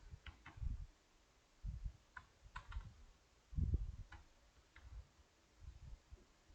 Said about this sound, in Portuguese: Você pode ir digitando aqui e apertando a tecla Tab